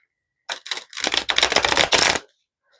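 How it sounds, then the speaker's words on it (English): A deck of tarot cards is shuffled in several quick riffling bursts, close and crisp, with short pauses between bursts and no talk. "And I'm going to shuffle the deck this way"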